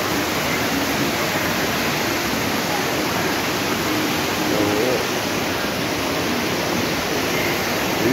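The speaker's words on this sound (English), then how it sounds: "beautiful Benta River" The Benta River flows past in a steady, loud broadband rush of water, continuous and unchanging throughout.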